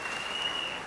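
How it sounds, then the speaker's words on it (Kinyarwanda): Congregation applauding in praise of Jesus at a church service, a dense, steady wash of clapping throughout the short moment with no voices over it. "amashyi menshi Umwami wacu Yesu Kristo"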